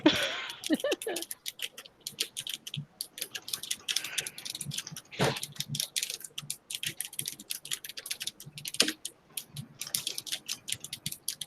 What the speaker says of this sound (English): You have a very loud keyboard